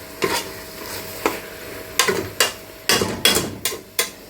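Minced meat and vegetables stir-frying over high heat for a quick spaghetti stirfry, with a spatula scraping and tossing in repeated sharp strokes over a steady background sizzle, close and fairly loud.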